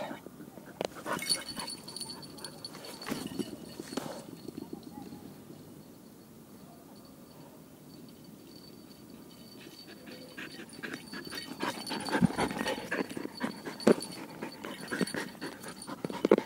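A dog pants steadily and whimpers now and then after fetching throws on an outing with an e-mountain bike, with scattered clicks and rustling around it and a person talking at times.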